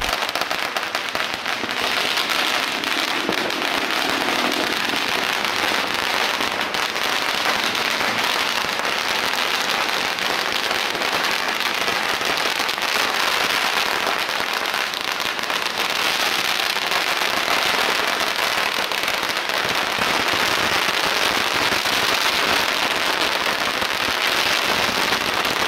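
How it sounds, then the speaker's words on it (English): Dense, nonstop crackling of firecrackers bursts through a crowded Phuket Vegetarian Festival parade, loud and unbroken throughout like heavy rain. "people are starting to release even more firecrackers"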